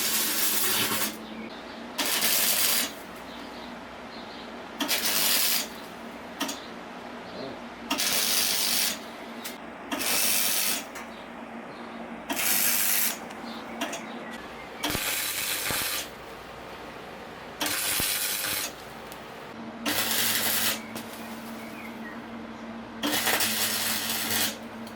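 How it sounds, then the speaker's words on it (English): Steel welding on a Honda CB250 motorcycle build, with repeated crackling bursts of a few seconds each separated by short pauses, loud and close, continuing in an irregular rhythm throughout. "we'll now just continue bloody welding our way around this"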